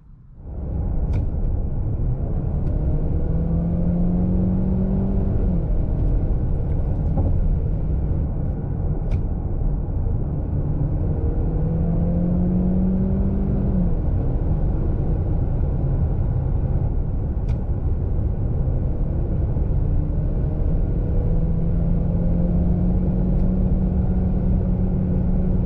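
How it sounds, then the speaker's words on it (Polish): A 2023 DS 7 E-Tense 300 hybrid in sport mode pulls hard under full power, a steady loud drone of engine and road noise running throughout with rising tonal sweeps as it gains speed. "W trybie sport wszystkie silniki działają razem, aby dostarczyć pełną moc i wtedy naprawdę jest bardzo,"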